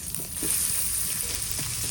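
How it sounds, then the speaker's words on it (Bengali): Chopped onion and green chili sizzle in warm soybean oil in a wok, a steady close frying hiss with faint stirring, no talking. "তেল হালকা গরম হয়েছে, এখন দিয়ে দিব কুচাইনা পেঁয়াজ, কাঁচামরিচ,"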